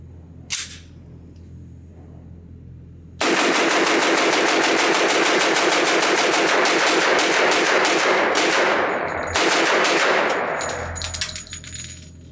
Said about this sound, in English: I'll put the camera out front and give you the obligatory mag dump.